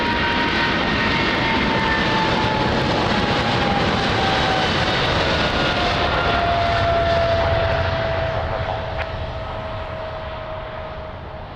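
A Boeing 777 jet departs Lisbon Airport with a loud, steady roar of engines and a thin whine sliding slowly downward, holding strong before easing off slightly near the end as the aircraft moves away.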